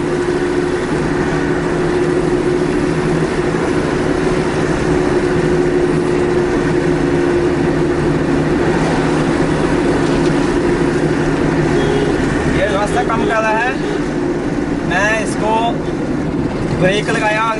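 A car engine drones steadily while the car is driven, braked and shifted into second gear, with the engine pitch sweeping up and down near the end as the gears change. Voices may be heard over the engine.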